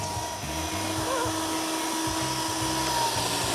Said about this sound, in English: you want to let the blade cut the tile